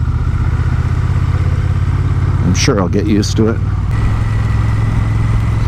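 The engine of a Honda Rebel 1100 motorcycle drones low and steady under a rider talking, with wind rumble and a constant engine hum throughout the ride.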